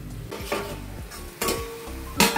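Vegetables with turmeric cook in a pot, with a soft sizzle under repeated clanks of a spoon or lid against the metal rim and occasional louder stirring scrapes.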